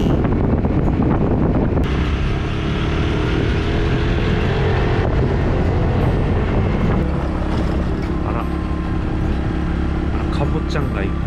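A car towing a handmade camping trailer sets off, its road and engine rumble heard from inside under steady wind buffeting.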